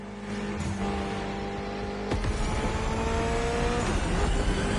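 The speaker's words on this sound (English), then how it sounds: "Mitsubishi gave us a nice inline four-cylinder with already 280 horsepower that are gonna turn up a bit" A Mitsubishi inline four-cylinder of about 280 horsepower revs in The Crew Motorfest racing game, a loud sustained engine drone whose pitch climbs with gear changes and a sharp shift near the middle, with no voices.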